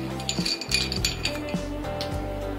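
Ice cubes clink and rattle into a container of green chutney ingredients (coriander, mint, green chilli, garlic, ginger, lemon juice), a few bright close clinks over a steady background.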